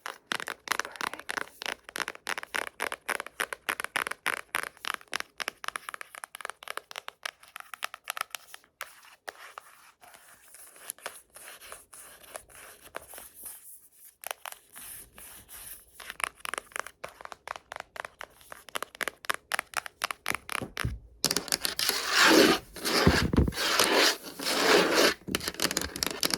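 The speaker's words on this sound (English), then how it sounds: "I love the sound of this cover" Rapid close fingernail tapping and scratching on a book cover, dense rhythmic clicks and rasps that pause briefly, then grow brighter and louder toward the end, with no talk.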